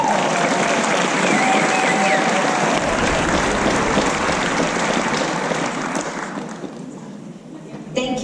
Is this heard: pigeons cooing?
no